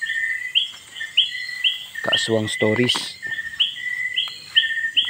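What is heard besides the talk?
bird calls at night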